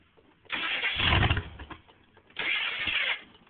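An old BII engine with a recently repaired head gasket cranks and catches, giving two loud bursts of engine roar separated by a quieter idle, heard close by.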